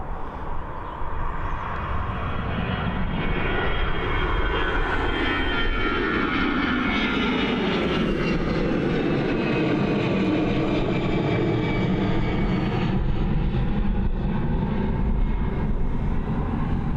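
Propeller airplane engine at Dublin Airport, a loud steady drone with a slowly shifting whine as the aircraft moves, continuous throughout and fairly close.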